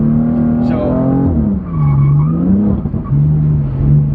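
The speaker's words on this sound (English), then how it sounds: "Now I pick up my gas, not till everything is settled back down. So now drifting." BMW car drifting on a driving-school track, engine note rising and falling with tires squealing and skidding, close and loud under an instructor's talk.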